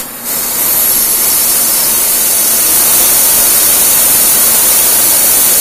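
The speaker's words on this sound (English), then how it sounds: "I just got the air going just to keep that smoke away from your vision there." Compressed air hisses steadily and loudly across a K&T 6-inch universal lathe as it cuts with a DNMP insert under oil, blowing the cutting smoke aside; a broad, even rush holds throughout without a break.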